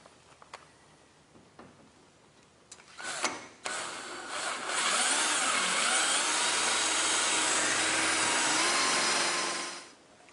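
A power drill bores screw holes through a metal garage door track during a wall-mounted opener install. A few clicks and knocks come first, then a steady whirring drill runs for several seconds before stopping.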